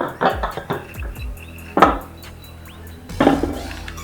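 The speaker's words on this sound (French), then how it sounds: "Et on va découper notre saucisson rapidement" A knife chops saucisson sausage on a board for a homemade pizza topping, giving several quick, close knocks in an uneven rhythm with light clinks between them.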